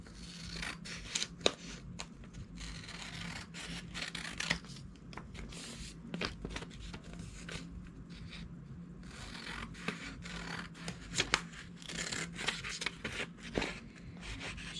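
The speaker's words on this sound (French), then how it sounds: "je vais venir découper en me laissant une bordure chaque côté" Scissors snip through paper Christmas cards in a series of quiet, close cuts, mixed with soft rustling and scraping of the paper and no speech.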